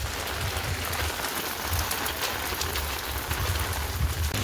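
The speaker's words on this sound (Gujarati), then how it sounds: "તો પાદરમાં વરસાદ ચાલુ છે" Rain falls steadily on a village street at evening, a dense pattering hiss on surfaces that holds an even level throughout with no voices.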